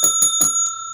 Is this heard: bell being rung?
yes